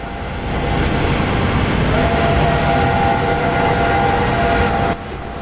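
The Flying Scotsman steam locomotive in Train Simulator 2016 on a London to Brighton run, with a loud, steady rumble of the train and a sustained tonal whistle-like drone echoing, which cuts off abruptly near the end.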